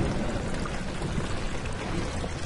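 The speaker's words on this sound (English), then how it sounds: "Listen to that water." Steady rushing water flows without a break in the video game Amnesia, a dense broadband wash like a stream or pouring torrent, close and constant.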